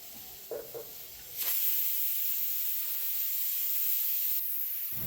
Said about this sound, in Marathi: माझ्या कुकरला तरी 3 ते 4 शिट्ट्या लागतात. त्यामुळे मी इथे 3 ते 4 शिट्ट्या कुकरची काढून घेते